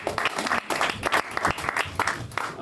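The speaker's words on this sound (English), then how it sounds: "Clap it up until he gets on stage." A comedy club audience claps and cheers as a comedian heads for the stage, loud and close, with sharp individual claps punctuating the dense applause.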